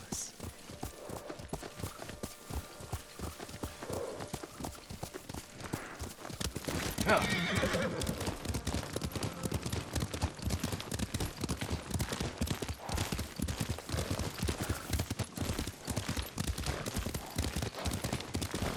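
Steady rhythmic clip-clop of horse hooves at a trot in the video game Ghost of Tsushima, continuous throughout, with a horse whinnying and faint voices and distant gunfire beneath.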